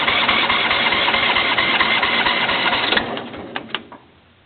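A John Deere L120 lawn tractor engine cranks on a cold start with a weak battery and fails to fire, a loud steady churning that runs for about three seconds before fading into a few short clicks.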